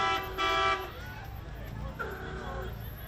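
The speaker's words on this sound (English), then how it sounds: "Thank you for the horn honking. You may do more horn honking." A car horn gives one short toot at a 2023 Fourth of July parade in Pasco, sounding fairly faint over murmuring crowd noise and distant traffic.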